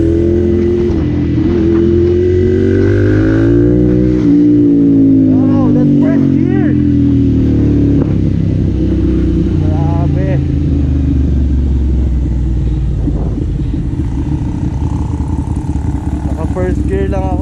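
A Yamaha R6 and a Ducati Monster 795, both fitted with full titanium exhaust systems, rev loudly and close up, the engine note rising and falling continuously with a couple of short voices heard over it.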